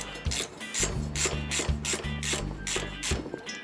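A ratchet clicks in quick repeated strokes while tightening cylinder head bolts on a Romet engine, close and crisp, with rhythmic bursts of pawl clicks between short pauses.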